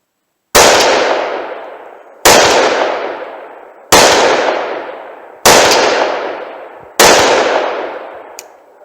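Five sharp, loud shots from a double-action .357 Magnum snub-nose revolver firing Blazer ammo, spaced about every one and a half seconds, each followed by a decaying outdoor echo.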